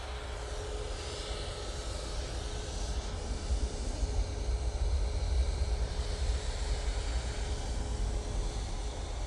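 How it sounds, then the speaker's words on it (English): A Ryanair Boeing 737 Max on the runway at Manchester Airport, its engines a steady, broad rushing roar at middle distance with a faint constant tone, no voices. "Ryanair Max has come on to the runway. That'll be next to go out"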